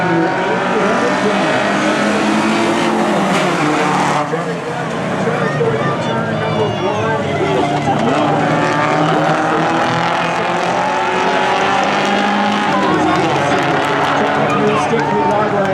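Race cars roaring around an oval short track, a dense, loud engine drone from a close pack of cars that stays constant the whole time, with a commentator talking over it.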